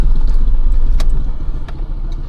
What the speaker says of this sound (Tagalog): Patayin muna natin yung makina.